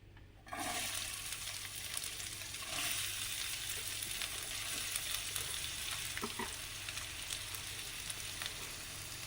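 Chopped onions, green chilies and curry leaves hit hot oil with a sudden loud sizzle, then sauté in a strong, continuous crackling hiss with occasional stirring scrapes.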